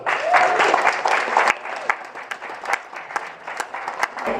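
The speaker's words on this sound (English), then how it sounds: "And give Andrew a big round of applause." Fans at a Red Dwarf convention give a big round of applause, a full burst of crowd clapping that thins into scattered sharp claps, with some voices and crowd noise mixed in.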